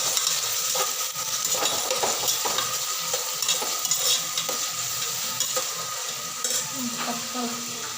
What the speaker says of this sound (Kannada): ಟೊಮೊಟೊ ಹಾಕ್ಕೋಬೇಕು ಚೆನ್ನಾಗಿ ಫ್ರೈ ಮಾಡ್ಕೊಬೇಕು